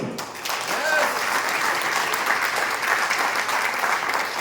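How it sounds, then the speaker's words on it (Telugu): An audience at a gathering bursts into loud, sustained clapping that fills the space evenly for several seconds, with a voice faintly audible underneath. "ఒక్కసారి గట్టిగా చప్పట్లతో"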